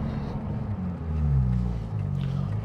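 A 1963 Jaguar E-type coupe with a 5-speed gearbox conversion drives along a road, its engine a steady low rumble from inside the cabin, swelling slightly in the middle, with no talking.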